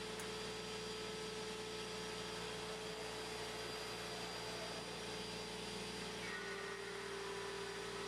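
A shop vacuum runs with a steady droning whine during CNC cutting of a Les Paul style guitar body, constant and moderately distant with faint tonal hum and no talking.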